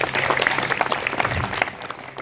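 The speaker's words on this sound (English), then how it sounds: "Let's give her a round of applause." A crowd at the 2017 New Jersey LD-16 Democrats' campaign kickoff claps steadily, with loud, dense applause that thins slightly toward the end.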